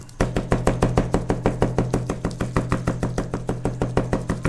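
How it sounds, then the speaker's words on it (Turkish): A knife chops fresh garlic cloves finely on a board in a brisk, steady run of about thirty evenly spaced, close, sharp knocks with no talking. "Şimdi bunları ince ince doğruyorum."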